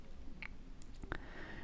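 A computer mouse clicks once or twice during software setup, short sharp clicks close to the microphone over a quiet room hum.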